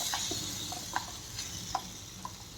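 Vegetable pasta being stirred and mixed in an oiled pan, with soft scraping and light sizzling throughout and a few sharp utensil clinks standing out at irregular intervals.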